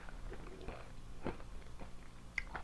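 Crunchy cocoa granola, coated in cacao powder, is chewed close to the mic, with quiet, irregular crisp bites and crunches and no talking.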